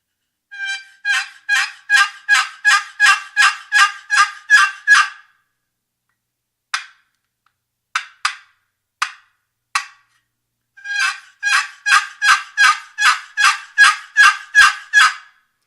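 A Primos single-sided box turkey call is worked by hand, giving loud, close runs of rapid yelps in steady series, with a few isolated clucks between them.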